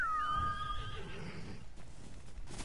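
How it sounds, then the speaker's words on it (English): A horse whinnies loudly near the start in a video game, its high quavering call trailing off within a second, leaving a low steady background rumble. "You're a good horse, Noble."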